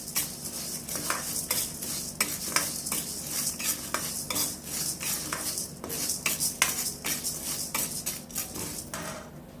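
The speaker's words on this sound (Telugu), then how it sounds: "ఇప్పుడు శనగపప్పు వేసుకోవాలండి" Chana dal frying in a pan while a utensil stirs and scrapes it, a steady sizzle cut by repeated metallic scrapes in an irregular rhythm, close and clear with no talk.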